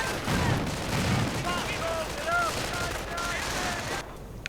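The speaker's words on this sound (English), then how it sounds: "And some Grenadiers getting gunned down horrifically." A strategy video game battle with dense, rapid gunfire and explosive bursts from grenades, sustained and fairly loud, with a brief drop-off at the end.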